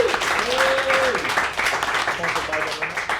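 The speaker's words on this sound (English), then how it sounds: "a round of applause as well for the Athletic Arms for winning Scottish Whisky Pub of the Year" A pub crowd at a whisky night applauds the Athletic Arms, named Scottish Whisky Pub of the Year, with steady clapping mixed with cheers and voices throughout.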